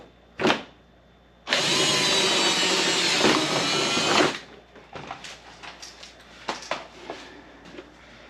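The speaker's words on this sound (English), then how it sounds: "I guess we got to drill one more hole here." Power drill boring a bolt hole on a Honda Talon side-by-side during a mud flap install: one short burst, then about three seconds of loud, steady whirring drilling, followed by quieter clicks and handling noises.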